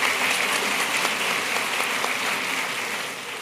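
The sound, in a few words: audience applause welcoming a pastor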